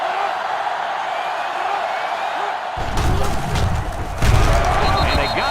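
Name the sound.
stadium crowd cheering in video game NCAA 06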